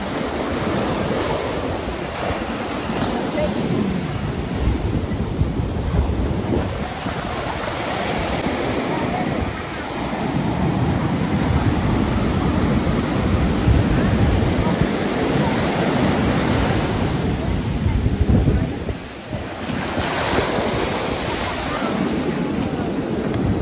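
Ocean surf on the Kerala coast rolls and crashes continuously onto the shore, loud and broad, with wind buffeting the microphone.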